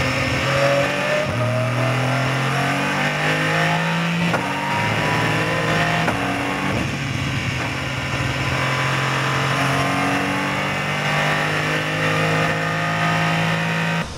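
An Aston Martin GT3 race car and a faster LMP2 prototype run on a circuit. A loud, continuous engine roar fills the whole stretch, with pitch climbing and dropping through gear changes.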